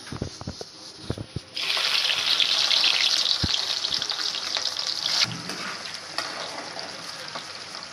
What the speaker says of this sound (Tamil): கத்திரிக்காய் வறுக்கிறதுக்கு இந்த இந்தமாரி மெலிசாக கட் பண்ணி வச்சுருக்கேன் இப்போ வறுத்து எடுத்துக்கலாம்